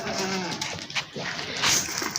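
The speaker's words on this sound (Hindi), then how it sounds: "और ये हमारे पास गुलाबी बकरी है।" A pink goat at a Bakra Mandi animal market gives a few short, nearby bleats among background livestock and market noise, with some talk faintly present.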